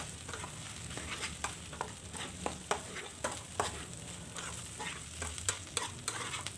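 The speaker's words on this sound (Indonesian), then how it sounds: "dicemplungkan cabenya dan juga tempenya dioseng-oseng kembali semuanya" Chili and tempeh stir-fried in a pan while cooking sautéed cassava leaves, a steady close sizzle broken by repeated scraping and clinking strokes of the spatula, with no talking.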